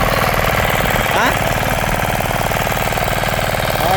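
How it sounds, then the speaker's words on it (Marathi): A tractor ploughing a field: a loud, steady diesel engine drones with a rhythmic low knocking, running continuously at close range, with a brief rising whine partway through. "ट्रॅक्टर घेतात ट्रॅक्टर नागरतो"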